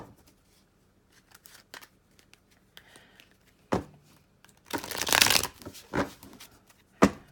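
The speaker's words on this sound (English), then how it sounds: "I'm going to get some tarot cards here" Tarot cards shuffled by hand: a few light taps and riffles, then a loud, dense burst of rapid card flutter in the middle, followed by a couple of sharp card snaps, close up with no talk.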